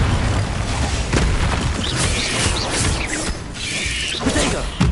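A Confringo fire spell from the video game Hogwarts Legacy bursts loudly, with dense booming explosions and mechanical crackle filling the scene while a player's voice occasionally sounds underneath.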